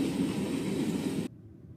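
A long Norfolk Southern freight train rumbles past in a steady, loud roar of wheels and cars, then cuts off abruptly to near quiet.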